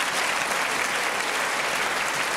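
Loud, sustained applause from a crowd at a political rally, a thick uninterrupted patter of many hands clapping at an even level throughout.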